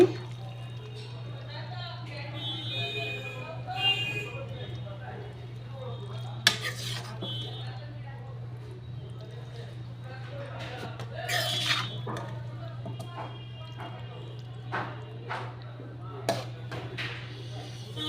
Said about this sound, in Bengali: আমি একটা বাটিতে তুলে দেখিয়ে দিচ্ছি